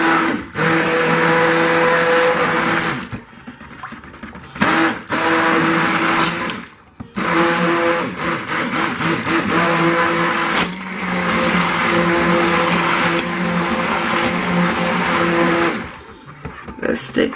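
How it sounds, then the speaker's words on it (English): Stick blender whirring through rice milk soap batter in bursts, a steady loud motor hum stopping and restarting several times with brief quiet gaps. "This stick blender makes lots of bubbles for some reason."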